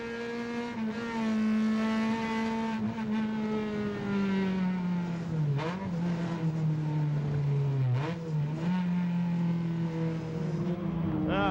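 Onboard a rally car at Sanair in 2005, the engine drones steadily with pitch slowly falling, broken by quick blips of revs as the driver heel-toe downshifts, all loud and close.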